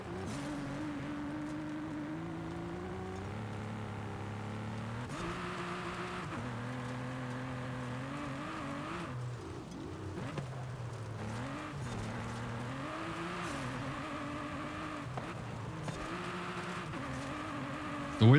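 Racing car in a video game lapping a dirt track, engine droning and shifting pitch with near-constant tire squeal as it slides through corners, a continuous close, moderately loud roar.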